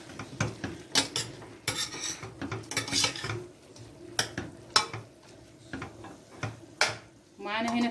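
A spoon scrapes and knocks around a cooking pot as grated carrot is stirred into cooked-down tomato for a meat kabsa, with repeated close clinks and wet shuffling, then a short burst of sizzle near the end.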